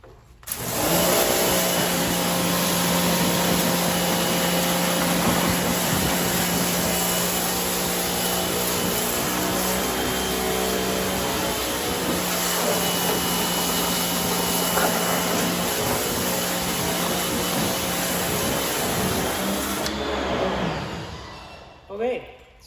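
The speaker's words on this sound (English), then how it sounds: "Helps when you have your pressure washer turned on." A pressure washer sprays car wheels to loosen brake dust, a steady, loud motor drone with a high whine running nearly unbroken for about twenty seconds before it cuts off.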